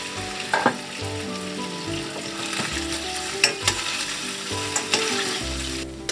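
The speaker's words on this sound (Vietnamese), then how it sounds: "vớt bớt cái dầu dư ra, chỉ còn xíu dầu áp chảo dưới thôi" Chicken pan-fries in oil in an uncovered pan, a loud, close, steady sizzle with crackling bursts and scraping stirs scattered through it.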